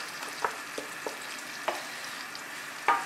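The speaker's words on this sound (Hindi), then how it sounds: "लीजिए जी, ये मेल्ट हो गया, हम डालेंगे 1/2 कप चॉप किए हुए प्याज" Chopped onions sautéing gently in melted butter, a soft steady sizzle with a few light scrapes of a spoon stirring them through the pan, fairly quiet and with no talking.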